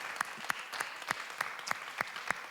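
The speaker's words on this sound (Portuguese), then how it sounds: "Aplaude Jesus aí, meu irmão, aplaude Jesus." At a church teaching session, a few people clap slowly and sparsely in an even rhythm, faint and somewhat distant, about eight separate claps over a couple of seconds.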